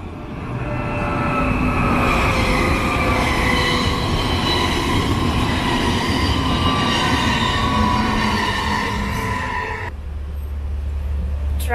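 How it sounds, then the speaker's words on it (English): A tram rolls past loudly and continuously along a city street in Zurich, with rumbling wheels and a high metallic squeal from the rails, then the noise drops away abruptly. "Tram in Zurich."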